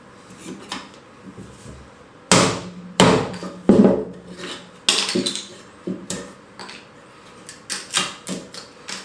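Irregular sharp wooden knocks, some loud and some soft, from a cheap Harbor Freight chisel tapped with a mallet, with quiet scraping between strikes.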